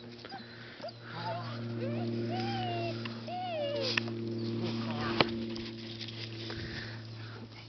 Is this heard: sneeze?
no